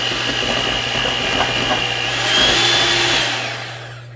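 An electric mixer beats keto cake batter with a steady close whirring drone and a faint hum underneath, swelling slightly toward the end before it cuts off.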